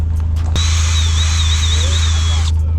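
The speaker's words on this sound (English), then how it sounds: "I gotta drill a hole in that quarter and bumper." A power drill whines steadily for about two seconds while drilling a hole in a car's quarter panel and bumper, starting and stopping abruptly, close and fairly loud.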